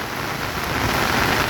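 Heavy rain pours on a flooded plant nursery in Kadiyam, with potted plants standing in water. It makes a dense, continuous roar of drops hitting the surfaces, loud and unbroken with no voices.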